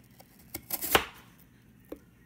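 A knife slices thin rounds of lotus root on a cutting board: a few scattered taps and one louder central cut, close and fairly quiet, with no talking.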